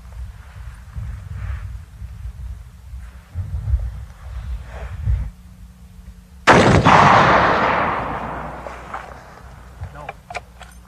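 A machine gun at a shooting range fires one loud, close blast that echoes away after several seconds of talking, followed by faint clicks.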